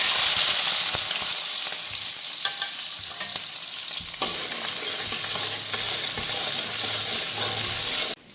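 Small red onions sizzling in hot oil in a pan, a steady loud frying hiss with occasional stirring scrapes and small crackles, continuous and close.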